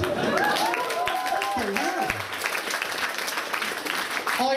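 Applause from a stand-up comedy audience in Tartu, Estonia, with dense clapping mixed with a comedian's voice at first, then thinning out.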